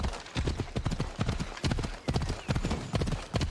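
Horses' hooves clip-clop steadily in Assassin's Creed Odyssey, a brisk rhythm of close, distinct strikes running throughout, with several animals moving together and no talk over them.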